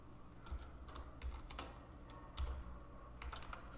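Typing JavaScript code on a computer keyboard, irregular clusters of quiet key clicks with occasional firmer strokes, close and soft, no talking.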